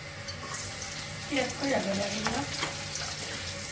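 Onions fry in a pan in a home kitchen with a continuous close sizzle and some stirring, while faint voices murmur in the background.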